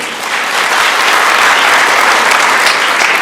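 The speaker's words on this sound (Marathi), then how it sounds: "तुमच्या सगळ्यांना जे डोनर आहेत त्यांच्यासाठी एकदा टाळ्या वाजवून" Sustained, dense applause from a seated audience at a Marathi health talk, clapping for the donors, loud and steady throughout with no voices over it.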